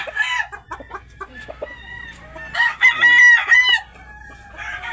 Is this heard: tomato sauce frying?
no